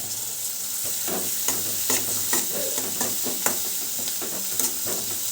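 Onions with salt and curry leaves fry in a pan and are stirred briskly, a continuous close sizzle broken by regular scraping strokes.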